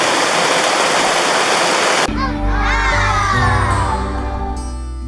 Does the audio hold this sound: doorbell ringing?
no